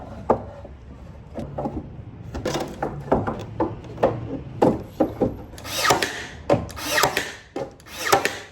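Wooden trim is cut by hand on a workbench, with uneven rasping and sawing strokes and scattered knocks of wood and tools that get louder and denser toward the end.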